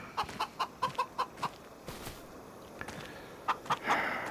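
Chickens in the Farming Simulator 25 video game give a series of short, rhythmic clucks in quick bursts, a pause, then a few more clucks, fairly close and with no talk.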